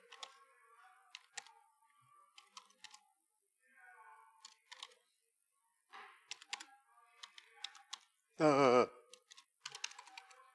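Computer keyboard during a Python programming lecture, typed in scattered short bursts of quiet clicks close to the microphone, with brief pauses and one sharp louder noise near the end.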